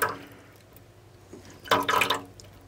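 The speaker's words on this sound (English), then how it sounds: "I'm gonna fill this up with some nice well water." Well water is poured into a Spin Clean MK II record cleaning machine, with a brief splash at the start and a louder burst of pouring and sloshing near the end. No one speaks.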